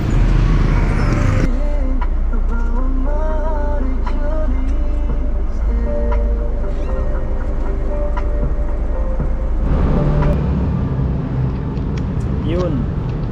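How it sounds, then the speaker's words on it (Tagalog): Heavy road traffic around BGC heard from a vehicle on a delivery run: a constant low engine rumble with passing vehicles and occasional tonal sounds, with voices heard faintly in the background. "Sobrang traffic."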